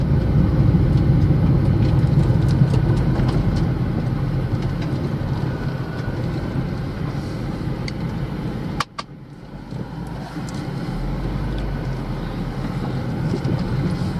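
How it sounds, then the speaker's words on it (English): A car passing close by on a road, its steady engine and tyre rumble loud through most of the sound, then a sudden sharp break before the road noise resumes. "Oh shoot, there's a car coming."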